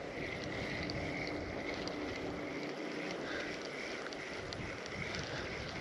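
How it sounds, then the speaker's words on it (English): Steady outdoor wind on the Pigeon River, a constant broadband rush with buffeting against the microphone, loud and unbroken without talking. "that wind started to pick up a little bit more too"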